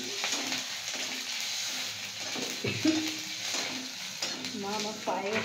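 Mustard seeds splutter and crackle in hot oil for tempering, with green chillies and a bay leaf, a steady near sizzle broken by sharp pops while voices talk over it.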